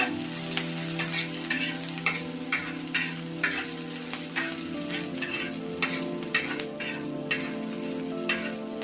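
Onion and chilli fry in oil in a pan with a constant sizzle while a spoon scrapes and taps against the metal in a fairly regular stirring rhythm.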